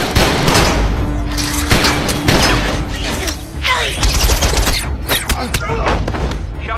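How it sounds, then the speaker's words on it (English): Gunshots fired aboard an aircraft in an animated Transformers-style action scene, a loud, dense fusillade of booms and rapid bursts mixed with mechanical clatter, with shouted voices layered throughout. "Repeat, shots fired."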